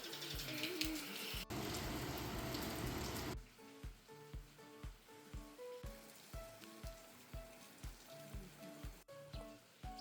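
Rain falling on a farm field planted with young crops on a rainy day in rural Korea, a dense patter that gives way to softer scattered drips with a steady rhythmic ticking underneath.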